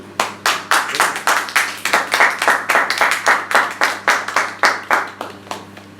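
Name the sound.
audience applause at Toastmasters meeting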